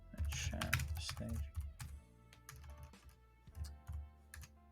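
Fast, close clicking on a computer keyboard comes in irregular bursts, quiet and crisp, with a low background hum and a faint voice murmuring briefly near the start.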